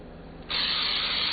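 Cooking spray hisses onto a baking pan being prepped for cinnamon rolls, a steady close burst starting partway in and continuing to the end.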